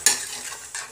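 A spoon stirs veg biryani with paneer in a pot, giving two brief scraping clinks against the metal, close and fairly quiet, with a faint sizzle between them.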